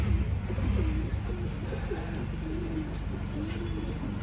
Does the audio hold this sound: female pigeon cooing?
yes